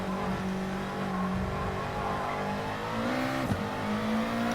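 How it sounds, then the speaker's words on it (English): A race car at Monza in a racing video game powers hard out of a corner, its engine note climbing steadily in pitch, dropping with a brief gear shift, then rising again. "Hard on the accelerator, get that drive out of there."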